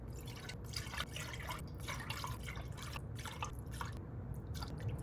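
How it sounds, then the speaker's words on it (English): Beef broth for Vietnamese pho poured through a sieve into a separate pot, a steady liquid trickle with scattered drips and splashes, fairly faint and continuous throughout with no talking. "We'll also run it through a sieve into a separate pot to catch all the fat and the meat residuals."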